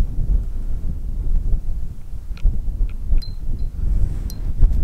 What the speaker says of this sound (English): It's a bit windy, so I'll speak as loud as I can.